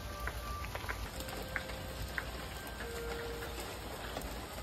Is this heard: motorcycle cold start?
no